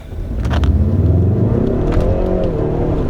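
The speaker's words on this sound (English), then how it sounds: "Do a first gear pull from a dead stop, no traction control, and here we go." A 2018 Ford Mustang EcoBoost with the performance pack launches hard from a dead stop in first gear with traction control off, its engine revving loud and close as the wheels spin.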